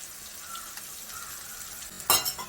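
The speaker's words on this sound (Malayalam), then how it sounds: "മുളക് പൊടി ഇത് നന്നായിട്ട് വഴണ്ട് വരണം" Wet chili powder paste sizzles and bubbles softly in hot oil in a pot, with a brief louder scrape and stir near the end.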